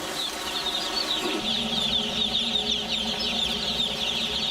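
Broiler chickens in a crowded poultry farm flap and cluck together, a dense, constant rustle of wings and clucks that stays loud throughout, with no voices.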